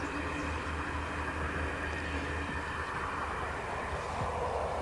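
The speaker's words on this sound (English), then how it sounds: "Hell of a lot of trains." A steady rumble from trains passing near a countryside river holds at constant loudness, with a faint low drone underneath and no voices.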